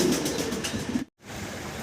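Pigeons at a pigeon seller's place coo in repeated soft rounded calls, close by, with a short silent gap midway and no talking.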